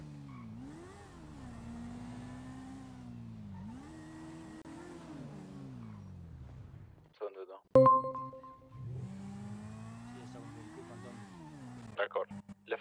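A white truck-like vehicle in a GTA roleplay game, its engine droning and shifting pitch as it drives and turns, then cutting out for a moment before sharp clunks and the engine resuming.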